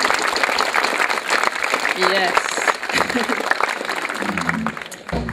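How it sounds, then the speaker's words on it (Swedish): An audience applauds at a jazz concert celebrating Larsmo's 150th anniversary, sustained clapping from a crowd with voices talking over it and a short spoken word near the end. "ska vi, en applåd för Larsmo 150 år"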